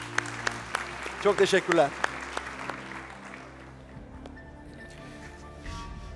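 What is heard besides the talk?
audience applause in a TV talent show studio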